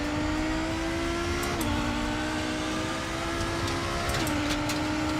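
A Volvo race car engine drones steadily in RaceRoom, a sustained mid-pitched hum with a couple of brief shifts downward and faint tyre or mechanical ticks, no talking.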